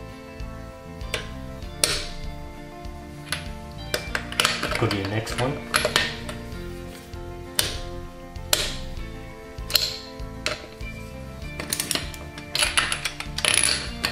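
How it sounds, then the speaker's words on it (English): Sharp metallic clicks from a torque wrench reaching its set torque on a nut repeat at irregular intervals, close by, with brief ratcheting between them and a short spoken phrase. "You hear the click and it tells you that you reached the right torque on your nut."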